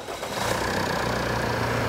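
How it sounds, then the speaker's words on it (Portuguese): A diesel vehicle engine with a particulate filter (DPF) cranks and catches, then settles into a loud, steady low rumble close by, with no one talking. "dê partida no veículo, dê partida no motor"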